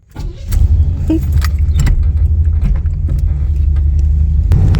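A 1990 Buick LeSabre Estate Wagon with a Quadrajet carburetor engine runs steadily with a low, loud, continuous rumble as it sets off, with brief jingling clicks on top.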